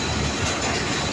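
The Hazara Express 12 Down pulling into a city railway station, a dense, loud rumble of rolling carriages and wheel noise, close and continuous.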